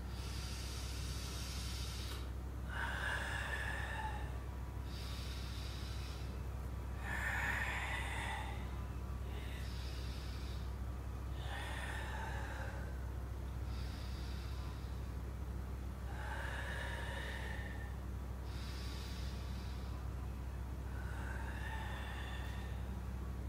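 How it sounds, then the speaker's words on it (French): Yoga pranayama breathing, heard as a series of slow, deep inhales and long, hissing exhales repeating in a steady rhythm over a constant low hum, faint and close, with no talk. "prendre de plus en plus d'air et de souffler le plus longtemps possible"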